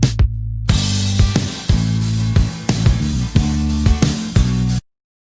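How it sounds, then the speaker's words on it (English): Instrumental music mix with the vocals muted: full band with punchy drum hits and sustained bass and chords, loud and steady before cutting off abruptly at the end. "Same mix, no vocals."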